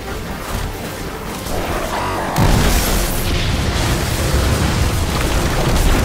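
Radioactive device exploding in Destiny 2, a dense roaring blast that swells suddenly midway and holds as a loud sustained rumble with crackling debris.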